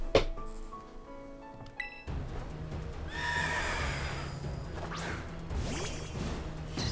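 A horse neighs loudly in the Pokemon Scarlet video game, a bright whinny up close, followed by game sound effects of crashing and whooshing under a steady wash of noise.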